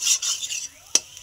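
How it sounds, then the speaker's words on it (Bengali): Egg being stirred in a pan with a utensil to break it into scrambled crumbles, a few close scraping strokes with a sharp clink near the end, brief and alone. "ডিমটা দেওয়ার সঙ্গে সঙ্গে ঘেটে দিলে কিন্তু সুন্দরভাবে এরকম একদম ঝুড়ি ঝুড়ি হয়ে যাবে।"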